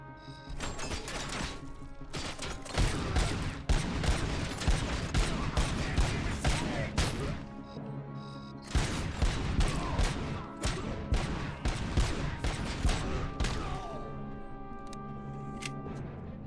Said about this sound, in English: Assault rifle, combat shotgun.